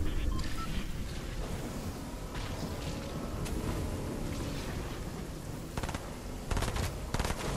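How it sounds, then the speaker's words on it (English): Enemy gunfire in an online squad shooter game, bursts of rapid automatic shots with sharper volleys near the end, heard at moderate distance amid constant game noise. "they're firing at me"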